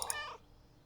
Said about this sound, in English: Curious meow.